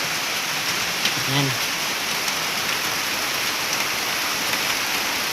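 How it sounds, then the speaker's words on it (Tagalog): Sudden heavy rain pours down in a dense, steady hiss, close and loud, with a brief spoken word and a short tonal sound near the start. "Biglang bumuhos ang ulan"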